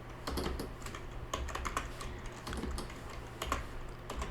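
Close, steady clatter of keys as a terminal command is typed on a computer keyboard, with light irregular taps over a faint constant hum.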